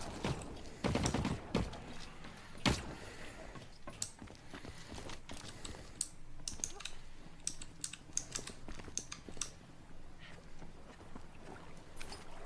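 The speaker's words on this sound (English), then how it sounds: "Oh god, your keyboard. Oh god, it's annoying." Rapid computer keyboard typing clatters close by in irregular bursts of sharp key clicks throughout, with no voices over it, during an online gaming session.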